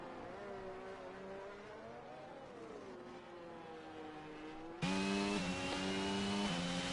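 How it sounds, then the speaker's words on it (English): Race cars in a sim racing league game heading toward the pit lane, engines droning with shifting pitch, then a louder, brighter engine roar cutting in sharply near the end, steady and continuous with no talk. "It's not looking good for Spandan as Chartman headed into the pit lane."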